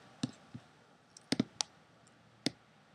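Computer mouse clicks, a handful of short sharp taps at uneven spacing, some in quick pairs, close and quiet in an otherwise still room.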